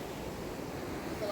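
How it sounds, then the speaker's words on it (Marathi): Stream water rushes steadily past at a rural village spot where water pours down into a pool, a dense, continuous wash of noise with some wind buffeting close to the microphone. "मस्त एक्स्ट्रा असं पाणी वाहतंय"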